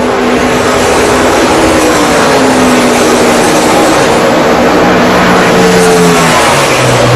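NASCAR stock cars racing at the Brickyard, a loud continuous engine roar with rising and falling pitch as cars sweep past, the whine of several engines layered together and filling the whole stretch without a pause.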